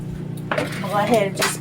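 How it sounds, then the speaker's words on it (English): A cooking pan set down with a soft metallic clunk onto a small pot rest in a home kitchen, brief knocks and clinks heard close up beside someone talking. "my pan over here on this little pan stand"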